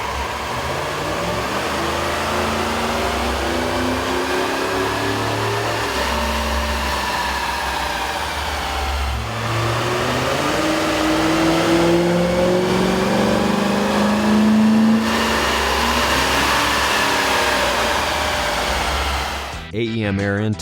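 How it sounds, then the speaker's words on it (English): A 2010 Ford F150 truck with the 5.4L engine and an AEM air intake revs on a dyno, engine tone climbing and falling in repeated sweeps under a loud continuous drone. "Here's a comparison of the Ford truck sound on the dyno with the stock OEM system versus AEM's air"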